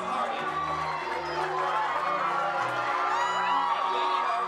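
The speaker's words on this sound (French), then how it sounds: "C'est la tête haute que les cadets défilent sous les acclamations de leurs proches." A crowd of family members cheers and whoops for cadets marching on parade, a continuous roar of voices with scattered shouts, steady and fairly distant, with a spoken commentary over it.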